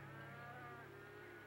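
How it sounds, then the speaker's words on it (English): Cattle moo in a farm setting, one drawn-out low, tonal call heard alone at moderate loudness. "The cows are in, Mr. Hammond."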